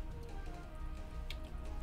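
Steady rain summoned by the Rain Dance move in the video game Pokemon Insurgence, a soft, even hiss of falling drops and patter that continues unbroken throughout at low volume with no one speaking.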